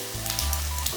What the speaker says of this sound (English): Add thinly cut roasted seasoned seaweed and sesame oil and stir fry about 1 more minute.